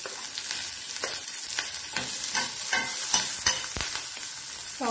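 Green chilli sizzles and fries with chopped garlic and ginger in a pan as a spoon stirs and scrapes through it. The steady crackling hiss is close and continuous, with no talking.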